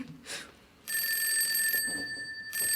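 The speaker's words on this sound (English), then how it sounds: "Telephone's ringing." An old-fashioned telephone bell rings in long bursts in a radio drama, loud and close, with a short pause between rings.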